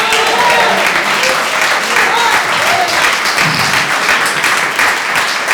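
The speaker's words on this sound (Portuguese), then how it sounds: "Bate palma para Jesus" Inside a church, a congregation claps in dense, continuous applause, loud and close, sustained evenly without a break through the whole moment.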